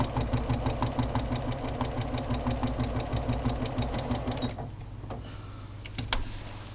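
A sewing machine stitching toward a quilt corner runs in a fast, even mechanical rhythm for several seconds, then stops, leaving a faint hum and a couple of small clicks.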